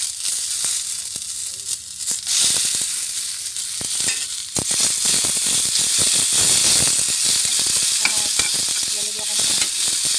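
Tomatoes frying in a pan with garlic that has already browned and burnt, a steady close sizzle broken by spatula stirring and scraping, dense crackling throughout.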